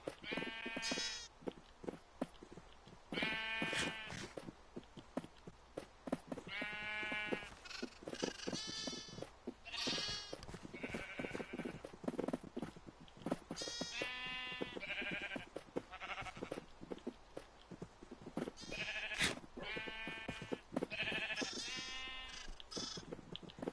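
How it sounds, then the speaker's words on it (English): Sheep bleat repeatedly in a farming video game, adult sheep and lambs, many overlapping calls from several animals, some close and loud, others fainter, against steady background noise. "these adult sheep need to get out of my way because I'm trying to feed babies"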